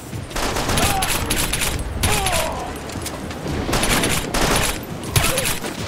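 Sustained bursts of gunfire in the video game The Bourne Conspiracy crackle loudly and almost continuously, with several heavier volleys surging over a dense background of rapid shots.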